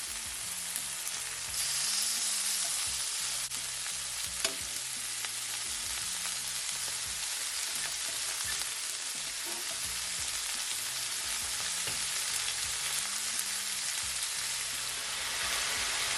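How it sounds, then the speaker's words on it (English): Shrimp frying in a pan for Cajun chicken and shrimp pasta, a steady dense sizzle that holds loud and unbroken throughout with no voices. "the shrimp is gonna fry for at least 3 minutes on each side"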